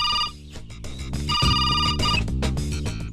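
A telephone rings with a repeating electronic ringtone melody, loud and close, in a comedic Bollywood household scene, sounding alone without talk.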